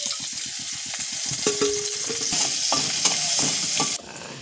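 Chopped onion sizzles and fries in a pan while being stirred, with steady scraping and clattering strokes at a brisk rhythm over a constant hiss, close and loud until the sizzle drops suddenly near the end.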